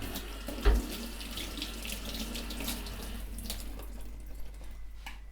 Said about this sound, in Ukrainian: Полоскаємо під проточною водою.